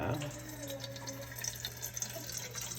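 Water runs from a tap into a container on a scale to make sourdough bread, giving a soft, steady trickle with faint splashing, recorded up close and fairly quiet.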